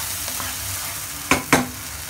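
Freshly ground masala is stirred in hot oil in a frying pan, a soft steady sizzle broken by two sharp scraping strokes of the spoon near the end.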